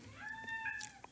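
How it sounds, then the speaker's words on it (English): A house cat gives a short, clear meow close by, followed by a softer chirp, in an otherwise quiet room. "That's my cat."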